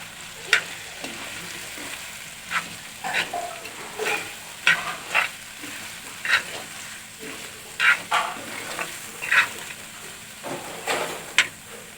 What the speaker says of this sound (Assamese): এতিয়া মই কাটি লোৱা আলুকেইডোখৰ দি দিম।